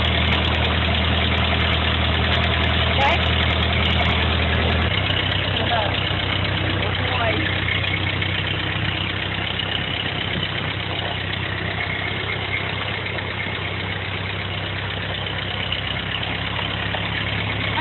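A farm tractor engine idles steadily throughout, a continuous low rumble with a drop in pitch after the first few seconds, while people talk nearby.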